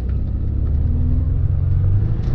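A 1992 Nissan 300ZX fitted with a Z1 Motorsports intake accelerates hard from a standstill, its engine note a loud, steady low rumble that climbs slightly in pitch as it pulls.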